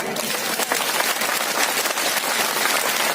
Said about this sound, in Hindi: जो व्यक्ति मेरी इस बात का समर्थन करता है वो हाथ उठा करके ताली बजाए।